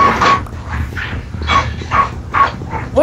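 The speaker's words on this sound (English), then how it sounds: "Another dog?" Dog barking in the video game Minecraft, several short barks spread across the moment over a busy game soundscape with background music tones.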